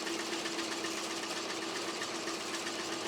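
An embroidery machine stitches through a thick purse held in a Mighty Hoops frame, giving a steady, continuous whirring hum with a fast mechanical rattle that runs unbroken for several seconds.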